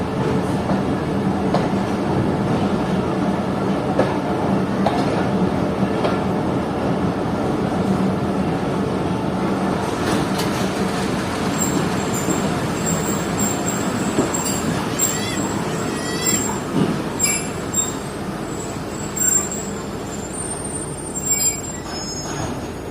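Sukkur Express passenger train running overnight, a steady loud rumble of the carriage with wheel clatter and scattered high metallic squeals toward the end, heard from inside the coach.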